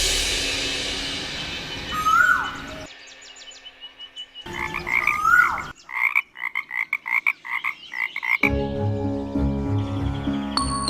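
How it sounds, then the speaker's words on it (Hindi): Frogs croaking during the rainy season, a chorus of rapid rhythmic croaks in several bursts with a bird call near the start, close and loud with no talk. "किंतु फिर मेंढकों ने टर्राना आरंभ किया"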